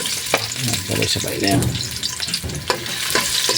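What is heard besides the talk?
ginger and onion sautéing in cooking oil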